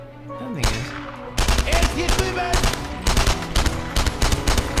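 Game gunfire from the World War II shooter Enemy Front, with repeated loud bursts of shots in clusters over an ongoing background of battle noise and music.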